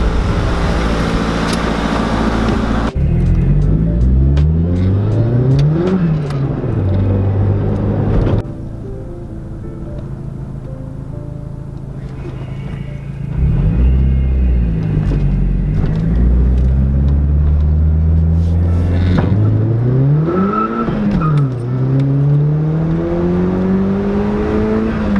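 Turbocharged car on a test drive, accelerating hard in repeated pulls: loud engine note rising through the gears with sharp drops at each shift, a quieter stretch mid-way, then more strong surges, with no talk over it.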